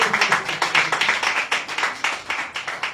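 A church congregation at a Sunday service applauds together, a steady close wash of many hands clapping with rhythmic swells and no talking over it.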